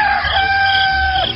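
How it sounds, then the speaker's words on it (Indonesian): A rooster crows at dawn in a single long, loud, close cock-a-doodle-doo, used as a sound effect in a radio drama. "Kalian dengar suara kokok ayam jago itu? Pertanda fajar pagi telah tiba."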